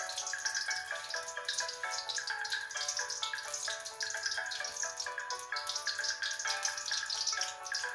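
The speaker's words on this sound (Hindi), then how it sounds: "उसमें डालेंगे हाफ कप ऑयल" Half a cup of oil pouring into a heated kadhai for chicken karahi, a continuous bright trickling stream with a dripping, splashy texture, close and moderately loud, no talking.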